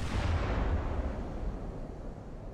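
A battleship in the naval video game Ultimate Admiral: Dreadnoughts fires high-explosive shells, a heavy, booming blast whose low rumble rolls out and slowly fades over a couple of seconds.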